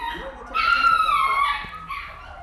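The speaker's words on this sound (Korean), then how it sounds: "어디선가 강아지 소리가 들리는 비닐하우스" Dogs whine and whimper inside a vinyl greenhouse full of cages, a high, wavering cry rising and holding for about a second before trailing off, with a shorter whimper following, fairly close and otherwise quiet around it.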